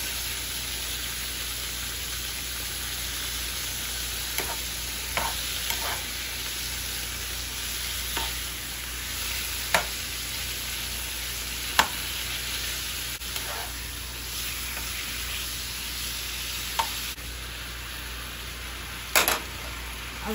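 Beef and broccoli sizzle steadily in a hot pan, with a spoon stirring and scraping the food in occasional sharp clacks over the constant frying hiss.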